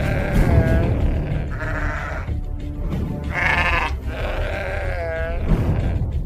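Sheep bleat several times in a desert pastoral setting: about four wavering, nasal calls rise and fall close by, with low rustling background between them.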